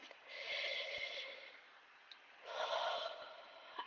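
Two slow, deep breaths taken during an EFT tapping session, each a soft, airy inhale and exhale close to the microphone, separated by a quiet pause, with no speech.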